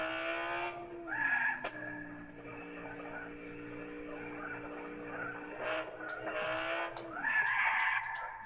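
A race car in the video game Gran Turismo 6 drives with a steady engine drone whose pitch rises and falls through gear changes, with brief tire squeals, while someone talks over it.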